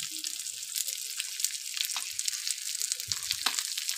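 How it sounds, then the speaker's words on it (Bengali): Fish frying in hot oil: a steady broadband sizzle and crackle that stays continuous and fairly close, with small pops and faint clinks scattered through. No one speaks. "সবাই এই নিয়মে মাছ ভাজি করবেন"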